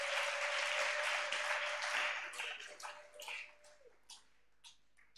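A church congregation claps and cheers for Jesus in a dense, loud wash of applause that thins out into scattered claps and fades by the end, with no speech over it.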